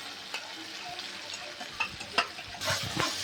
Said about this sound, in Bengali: এবার মশলাটা থেকে দইটাকে একটু কষিয়ে নেব হালকা